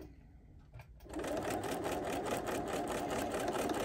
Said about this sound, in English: I'm just going to go over it, and then I'm just going to backstitch